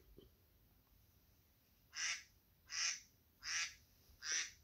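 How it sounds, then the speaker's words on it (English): Four evenly spaced nasal quacks follow a quiet moment, each short and fairly loud against a faint background hiss. "Duck."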